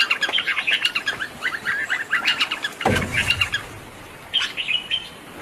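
In a green forest, birds keep up a busy chorus of quick, high chirps and calls. Midway a brief whooshing rush passes through before the chirping resumes.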